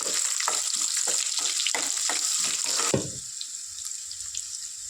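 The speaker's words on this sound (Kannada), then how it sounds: "ಈರುಳ್ಳಿ ಸ್ವಲ್ಪ ಕಲರ್ ಚೇಂಜ್ ಆಗೋವರೆಗೂ ಚೆನ್ನಾಗಿ ಫ್ರೈ ಮಾಡ್ಕೋಬೇಕು ಎಣ್ಣೆಲೆ" Onion fries in hot oil for a brinjal stir-fry, a bright continuous sizzle with rhythmic spatula strokes at first, then calmer, quieter frying after a clunk near the middle.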